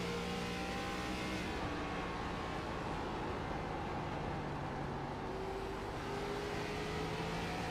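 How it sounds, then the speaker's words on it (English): A race car at Bristol Motor Speedway holds a loud, steady engine drone under throttle, the pitch rising slightly as it accelerates, heard from inside or close to the car. "You can hear the throttle."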